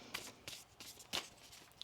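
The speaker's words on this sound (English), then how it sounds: "One more shuffle here." A deck of oracle cards being shuffled in a quiet room, three or four quick papery riffles spaced apart, soft and close.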